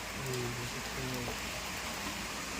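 Steady, dense rain hisses outdoors in front of a sweet shop, with faint low voices under the downpour.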